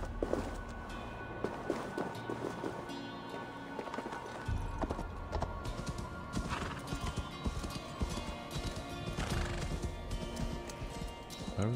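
Horse in the video game Assassin's Creed Valhalla, with steady clip-clop hooves close by and a whinny or neigh rising over a busy game soundscape; no talk.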